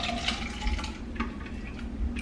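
Potatoes are rinsed in a pot of water in a home kitchen, giving a close, continuous sloshing and swishing with small splashes and no talking.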